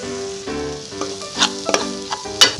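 Capsicum and ground spices sizzle in a pan while making masala pav, a steady frying hiss broken by a few sharp crackles and stirring clinks, close and moderately loud.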